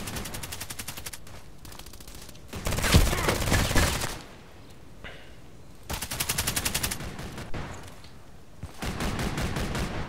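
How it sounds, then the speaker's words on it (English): Repeated bursts of automatic gunfire in the Contract Wars shooter game, loud sustained volleys separated by short pauses, with no talking. "That was two or three shots."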